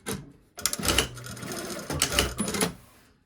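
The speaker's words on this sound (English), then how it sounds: "I'm just going to stay stitch down here to hold this together" A sewing machine runs two quick bursts of stay stitching along a pocket seam, about 1/4 inch from the edge: a close, fast mechanical whirring with a short pause between the runs.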